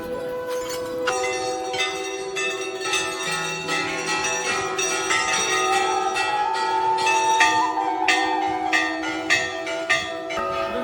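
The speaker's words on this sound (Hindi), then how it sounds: "यहाँ आपको हजारों नहीं बल्कि लाखों घंटियाँ लटकती हुई" Many hanging bells at the Golu Devta temple in Nainital ring together, overlapping metallic clangs and sustained ringing tones striking in an irregular, continuous cascade.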